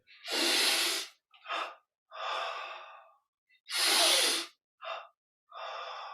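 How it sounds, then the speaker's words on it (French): Slow, audible breaths drawn in and pushed out during a yoga energization exercise, each exhale a loud, close, airy rush separated by silent pauses, repeating in a steady rhythm with no talking. "on inspire en contractant la nuque et en dressant. Et on relâche à l'expire."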